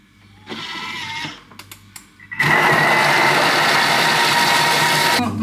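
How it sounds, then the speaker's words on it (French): An electric mixer whirs in short bursts, then runs in a long, loud, steady drone while blending cake batter made with almond powder. The mixing is close and there is no talking. "Et tu viens mixer le tout."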